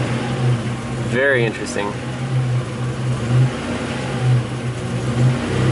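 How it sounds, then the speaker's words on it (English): The V6 engine of a Buick Grand National idles roughly and misfires, pulsing unevenly in loud stumbling surges; someone speaks briefly over it. "So it's misfiring, see it drop lean."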